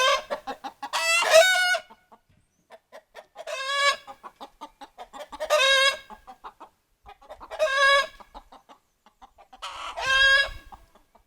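A hen gives repeated bursts of loud, squawking clucks, each run of quick notes building to a harsh cackle, separated by brief pauses.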